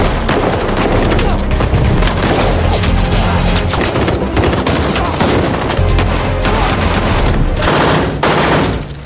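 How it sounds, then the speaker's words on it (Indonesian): Gunfire rings out in a film scene where a man is shot: dense, loud bursts of automatic fire and sharp cracks come in rapid succession, booming and continuous over several seconds with no pauses. "Dia tertembak."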